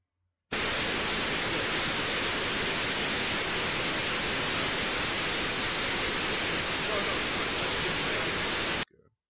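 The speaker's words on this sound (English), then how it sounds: "Or is it just static?" Static noise in the Crash Bandicoot EXE game, a loud, dense, unbroken hiss lasting about eight seconds that starts and stops abruptly, with no voices over it.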